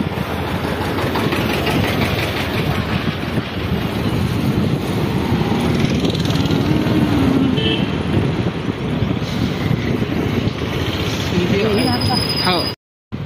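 A motorbike engine idles and putters steadily up close while being parked at a mall parking lot, with talk over it throughout, cutting out abruptly near the end.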